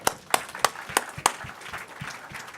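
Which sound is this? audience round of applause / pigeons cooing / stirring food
audience round of applause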